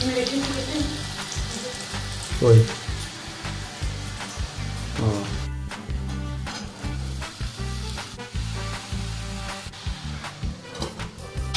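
Onion frying in oil for a Bengali dish, a loud continuous sizzle with scraping stir strokes and clattering utensil knocks, close up, with voices faintly talking underneath.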